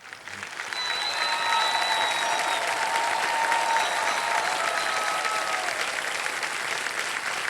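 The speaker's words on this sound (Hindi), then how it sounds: "तालियों के साथ मैं चाहता हूं कि उनका भी अभिनंदन किया जाए।" Studio audience on the quiz show KBC bursts into applause to welcome a contestant, rising quickly after a brief quiet start into a loud, sustained, even roar of clapping with music tones faintly underneath.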